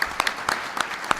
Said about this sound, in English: Can we just have a round of applause for everybody who stepped into the arena?